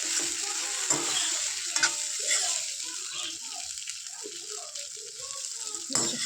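Poha being stirred in a kadhai over a wood-fired stove, a continuous close sizzle with repeated scraping strokes and light rattles, while a person talks over it.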